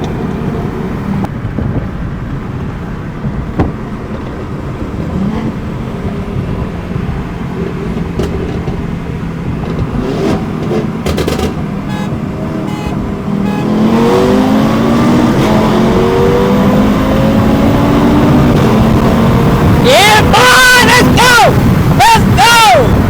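An Audi RS3 engine roars under acceleration in a roll race, building from a steady drone to a loud, rising rev with turbo boost as another car closes in, while people talk excitedly over it.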